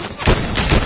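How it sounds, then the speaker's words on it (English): Gunfire in a video game, two quick loud thumping shots close together over a constant dense noise bed. "Now they're shooting at you?"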